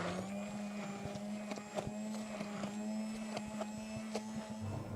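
Bajaj electric blender grinding ingredients into a fine paste, a steady high motor whine with a low hum and rattling bursts, loud and continuous with no voices.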